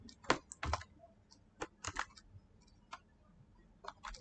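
Keys clatter on a computer keyboard as HTML code is typed, in short irregular clusters of close, crisp taps with brief gaps between them and no voice.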